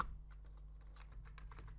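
Keys clacking on a computer keyboard during a Kali Linux 2022.3 installation, a quick run of faint, close taps over a low steady hum, with no talk.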